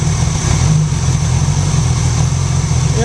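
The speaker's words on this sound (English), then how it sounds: "this is it idling right now" Honda Goldwing engine converted to a single carburetor, idling steadily up close with a deep low rumble and a constant high whine, no voices.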